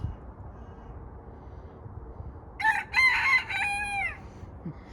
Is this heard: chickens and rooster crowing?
yes